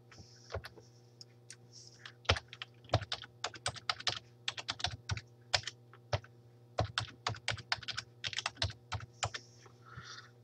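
A new password is typed on a computer keyboard in quick, irregular bursts of crisp close key clicks over a low steady electrical hum, with short pauses between runs.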